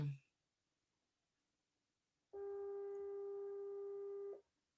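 A single steady telephone ringing tone sounds for about two seconds after a brief noise, then stops.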